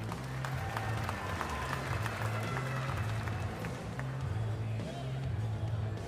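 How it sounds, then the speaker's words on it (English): Crowd applause at a women's timbersports championship, a distant sustained patter of clapping over a low humming drone from the venue, fairly quiet and continuous throughout. "one more big round of applause all the way from Pulaski, New York, Emily Br"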